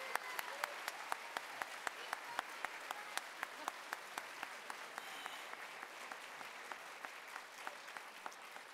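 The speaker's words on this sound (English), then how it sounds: "Let's give another round of applause for Mel Ferrara" Audience at a Point Honors gala gives a steady round of applause for a scholar, dense clapping throughout with individual sharp claps standing out, fairly distant and sustained without speech.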